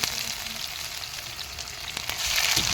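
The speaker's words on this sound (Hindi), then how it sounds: "इनको अच्छे से अल्टी पल्टी करके हम इनको फ्राई कर लेंगे।" Kebabs fry in hot oil with a loud, steady crackling sizzle throughout, a few sharp pops near the end, no voices.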